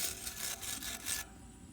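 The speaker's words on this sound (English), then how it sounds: "Well, I just use this brush first." Stiff hand brush scrubbing old metal disc nuts in a workshop, a series of rhythmic, raspy back-and-forth strokes, close and fairly loud, ending after about five passes with quiet room tone.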